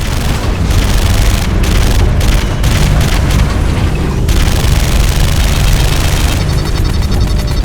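Anti-aircraft turret firing in the Terminator Salvation video game, a loud, continuous roar of blasts and booms that fills the whole stretch, with a rapid rattling burst toward the end.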